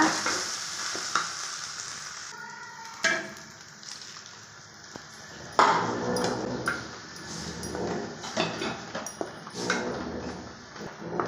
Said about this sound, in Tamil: நல்லா இதை வதக்கலாங்க